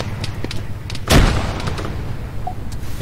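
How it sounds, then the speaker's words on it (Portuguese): Grenade blast in the military shooter game ARMA 3, a single loud boom midway through, with faint scattered gunfire and low background rumble around it. "Ó, a granada foi bem nele, velho."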